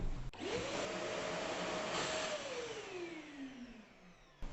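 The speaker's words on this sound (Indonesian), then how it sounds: "bagaimana kencangnya hembusan angin dari kompresor vacuum cleaner ini" An IDEALIFE IL100V wet and dry vacuum cleaner runs in blowing mode, a loud steady whooshing airflow with a rising then slowly falling motor whine, starting abruptly after a click and cutting off with another click at the end.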